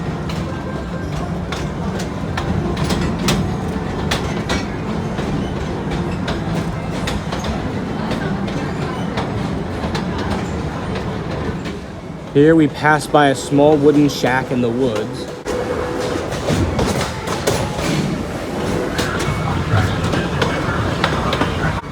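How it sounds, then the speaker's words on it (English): Amusement park train rolls along its tracks through wooded park grounds, a steady rumble with clicking wheels and a rising whine as it speeds up, heard under ongoing narration. "The train accelerates to quite high speeds as it heads past the tracks of the Mystic Timbers roller coaster once again"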